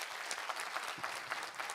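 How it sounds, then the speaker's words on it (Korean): A church congregation applauds together during a Korean early-morning prayer service, a steady dense patter of many hands filling the room without a break. "우리 하나님께 영광의 박수 한번 돌리겠습니다"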